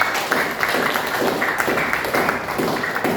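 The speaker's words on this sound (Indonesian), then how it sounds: "Tepuk tangan dulu buat kita semua." Clapping from a classroom group of students and teachers, a steady mixed patter of many hands filling the room at moderate loudness without speech.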